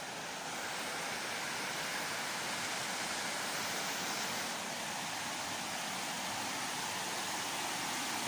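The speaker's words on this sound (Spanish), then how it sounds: "Estamos llegando al río, está bastante crecido." A swollen river rushes through rural Costa Rican countryside, a steady, dense roar of broadband water noise that holds constant and fairly close throughout, with no voices over it.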